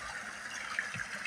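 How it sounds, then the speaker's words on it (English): A small brownish stream flows at a water source beside a hiking trail, giving a steady, soft, faint trickle and gurgle. "you get to a water source."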